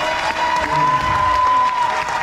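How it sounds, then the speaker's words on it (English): Audience at the Sandals Ochi resort applauds steadily, a dense wash of clapping with some cheering mixed in, sustained and fairly loud with a host's voice and a held tone faintly underneath. "Come on, make some noise again for them, everybody."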